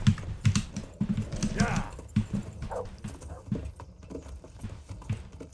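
Horse hooves clip-clopping in the medieval video game Kingdom Come: Deliverance, a rhythmic run of hoof beats under excited talking and shouting, with some keyboard-like clicks mixed in.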